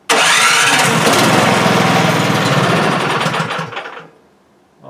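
A snow blower engine being started while the fuel flows freely: a loud, close cranking roar that runs rough for a few seconds, then sputters and dies away to near silence.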